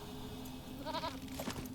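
A goat mount in the video game LOTRO lets out a short, quavering bleat, faint and brief over a steady background hum.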